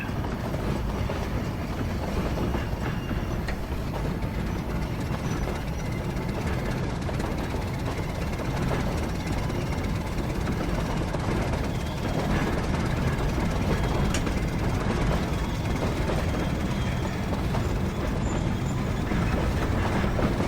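Locomotive in the railroad game Century of Steam running long hood forward through open country, a continuous loud rumbling roar with faint rhythmic rail clatter, steady throughout and without talk.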